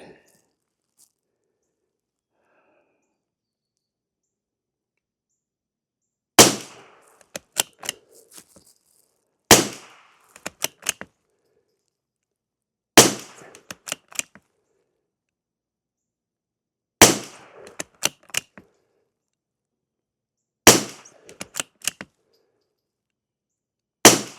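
CCI subsonic hollow point .22 rounds, some unlubed and some coated with a mineral oil and chapstick mix, fired from a rifle: six sharp close shots spaced about three seconds apart, each followed by brief clicks of cycling, with no talk.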